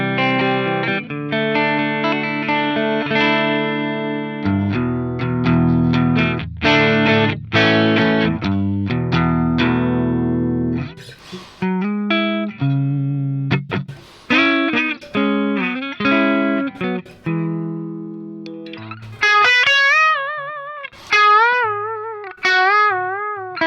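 An electric guitar shaped by an EQ pedal to imitate the thinner, lower-output sound of single-coil pickups, playing distorted chords, single-note runs and bends for over twenty seconds, loud and upfront with no talking.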